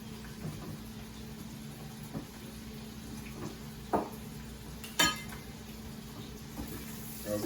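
Scallops and asparagus tossed around in a pan on a weeknight stovetop, with a faint, steady sizzle and a few soft clinks and knocks of food against the pan. No voices.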